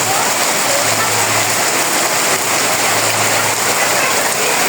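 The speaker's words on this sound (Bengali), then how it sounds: "দুপুরে খাওয়া দাওয়ার পরে সেই যে বৃষ্টি নামলো" Heavy rain pours down steadily over a village courtyard, a dense, loud and unbroken hiss throughout.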